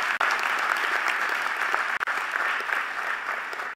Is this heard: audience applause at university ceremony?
yes